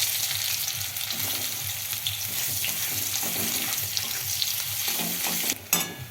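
Chopped onions hit hot oil in a wok already holding sugar, a cardamom pod and two cloves, giving a steady dense sizzle, with a brief clatter near the end.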